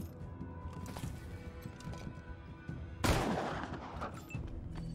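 A gunshot in the video game Wasteland 3 lands as one sharp, loud blast partway through, over a busy low rumble of game sound and scattered softer impacts.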